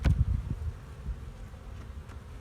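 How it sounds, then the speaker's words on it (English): During a beehive inspection a wasp buzzes close by in short, faint, droning bursts against quiet outdoor background noise. "And a wasp."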